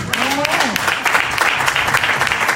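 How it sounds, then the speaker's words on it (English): A church congregation claps and applauds steadily for the Lord, a dense wash of hand claps filling the room with voices mixed in. "Give the Lord a hand clap."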